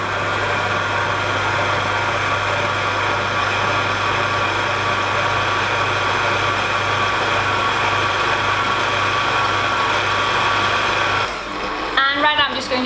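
A kitchen stand mixer whips flødeboller foam, with hot sugar syrup added a little at a time. It gives a loud, steady, close motor whir that runs nearly the whole time, then drops to a lower speed near the end.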